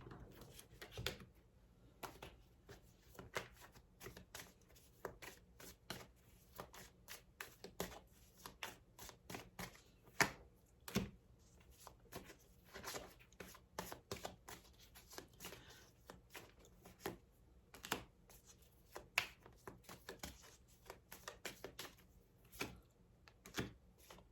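Tarot cards shuffled by hand, giving a steady stream of soft, dense riffling flicks and slaps at close range with no talking.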